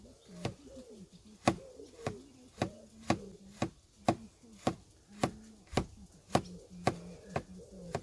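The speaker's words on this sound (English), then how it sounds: "Fine cut garlic as well." A DTK custom BBQ/camp knife finely cuts garlic on a board in sharp, evenly spaced chops about twice a second, while a dove coos softly in the background.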